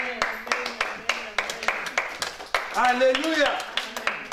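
A church congregation at a French Sunday worship service claps in steady rhythmic beats, close and lively, while a voice sings and acclaims over the clapping.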